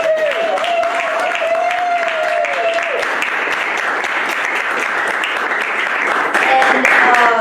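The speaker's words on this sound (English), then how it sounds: "everyone who read, all deserves a huge round of applause" An audience at a library poetry slam and reading claps steadily in sustained applause for the readers. The clapping is dense and loud throughout, and a voice is briefly heard near the start.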